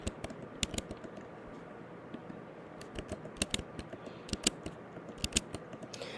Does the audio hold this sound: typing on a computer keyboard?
yes